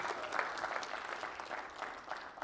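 Audience applause in a lecture hall after a live mental-math demonstration, a steady dense wash of many hands clapping throughout, moderately loud and unbroken, with no speech over it.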